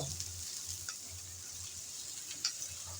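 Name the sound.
onions frying and being stirred in a pan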